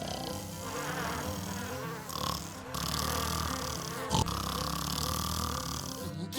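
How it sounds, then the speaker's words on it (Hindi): A cartoon ghost snores loudly with a buzzy, rasping rhythm, and music and other sound effects play under it. "क्या भूत खर्राटा लेता है?"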